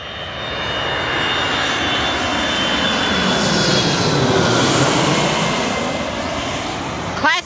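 A Delta Boeing 757-200 jet airliner roars past close overhead on approach to land, a broad loud rushing engine noise swelling and holding steady for several seconds before easing slightly.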